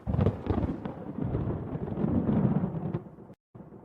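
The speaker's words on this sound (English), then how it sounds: "As he went out, there was a clap of thunder" A thunderclap sound effect rolls through an audiobook reading, a dense, rumbling crash lasting a few seconds before it cuts off abruptly.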